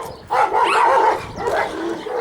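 A Central Asian Shepherd dog from Kyrgyzstan, a large livestock guardian breed, gives loud, close, sustained vocal barking sounds, one long outburst then a second, with no talk over it.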